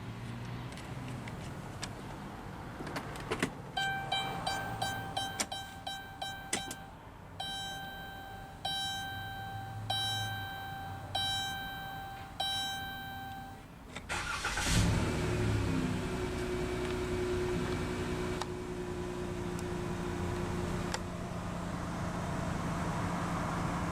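A 2019 Dodge Grand Caravan GT minivan is started: chimes and clicks ring out first, then the engine catches around the middle and settles into a steady idle hum that continues to the end.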